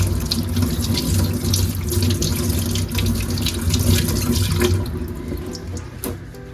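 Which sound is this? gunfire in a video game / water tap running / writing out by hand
water tap running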